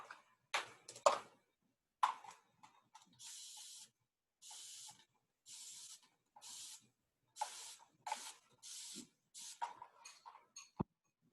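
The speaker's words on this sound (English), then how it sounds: "So I'm just going to spray her down a bit" A hand spray bottle mists hair before sectioning for a double halo style, firing a series of crisp, close hissing bursts with brief pauses between them.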